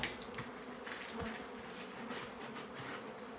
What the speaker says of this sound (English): There's just a few bees up in here.